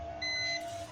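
A multimeter in continuity mode, its probes touching the pins of a phone's charging connector, gives a short steady electronic beep over a faint background hum, with no talking.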